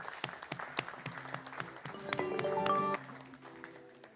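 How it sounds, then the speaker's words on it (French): Applause from an audience at a comic book launch event honoring school pupils, a moderate clatter of clapping mixed with sustained musical tones and some murmuring, swelling in the middle before easing. "On peut les applaudir parce qu'ils sont là"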